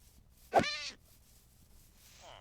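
Cat giving one clear, short meow close by, followed by quiet with a faint sound near the end.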